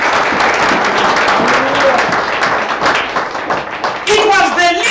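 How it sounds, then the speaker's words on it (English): A church congregation claps hands for Jesus during the pastor's sermon, a loud, continuous patter of many hands filling the room, with a voice rising over the clapping near the end. "Clap hands for Jesus"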